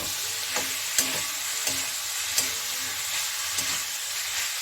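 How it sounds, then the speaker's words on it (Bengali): Kashmiri chilli powder and spices sizzle and fry in a pan for chicken bhuna masala, with a steady hiss and several soft scraping stirs at a close, moderate level. "এখন এর মধ্যে একটু নাড়িয়ে নিই।"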